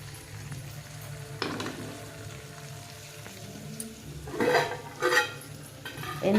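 Hot tempering is added to cooked dal for pappu charu and stirred in a metal pot, giving a low sizzle and bursts of clinking utensils toward the end, with no voices.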